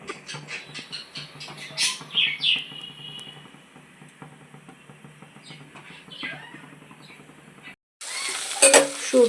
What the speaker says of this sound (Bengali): সবজিগুলো সব তেলে ছাড়া হয়ে গেছে